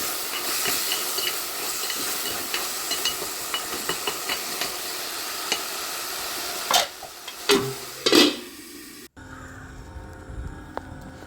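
Thoran, a vegetable stir-fry, being stirred in a pan, with steady hissing and sizzling broken by soft scraping knocks, then a few louder clatters before the sound cuts off.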